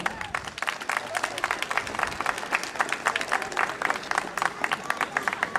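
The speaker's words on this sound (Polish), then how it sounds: "Wielkie brawa!" Audience applauding after a brass band concert, Sochaczew 2012: dense, steady clapping from a large crowd, sustained and fairly loud throughout.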